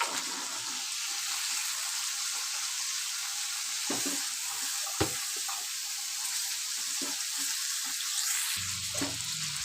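Mutton frying in a pan with ginger, garlic and green chili paste, a loud steady sizzle with occasional scraping and clatter from stirring.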